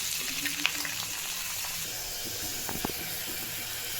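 Egg, onion, green chilli and torn dried chilli cook as a vegetable bhaji in a pan, giving off a steady, close frying sizzle with a soft broadband hiss and a few faint clinks, with no talking.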